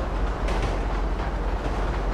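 A train in GTA 5 rolls steadily with a continuous low rumble and rhythmic rail clatter, loud and close, with no voices over it.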